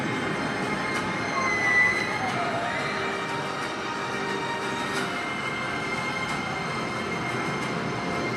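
An empty roller coaster train runs along the Hyperia track, a steady rolling rumble with a high wheel squeal, heard from a distance as a continuous, even roar with no talking.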